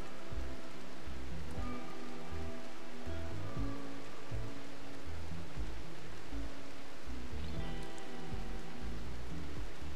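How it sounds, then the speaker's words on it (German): Steady rain from the video game RimWorld falls in an even, constant patter, quiet and unbroken, with no talking over it. "Und es regnet."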